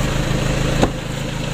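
Toyota Innova 2KD diesel engine running at a steady, loud, close idle with a low rumble and a brief bump partway through. No starter cranking is distinct.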